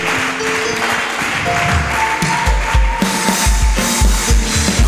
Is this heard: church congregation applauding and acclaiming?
yes